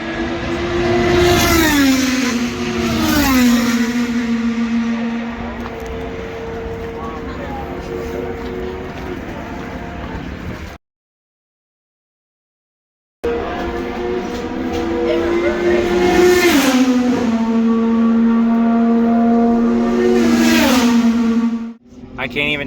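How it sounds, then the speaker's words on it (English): IndyCar race cars roar past during the final warm-up at Road America in 2023, their engines rising and falling in pitch as several pass close by in quick succession, broken by a brief silent gap. "Just seeing these cars go by for the first time, not even at full speed, is just literally breathtaking."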